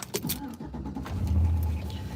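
A truck's engine cranks and catches with a low rumble in cold winter conditions, preceded by faint clicks and jingling, close and moderately loud.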